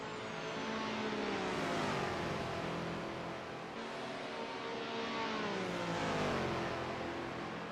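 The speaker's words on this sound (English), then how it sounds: "That V10 engine of M1LDT, but M1LDT goes deep" A V10 race car engine drones loudly and continuously at Sonoma, its pitch climbing and falling in several sweeps as it revs through corners, with no voices.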